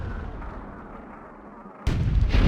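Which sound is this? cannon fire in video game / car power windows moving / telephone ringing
cannon fire in video game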